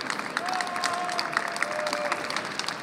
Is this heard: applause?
yes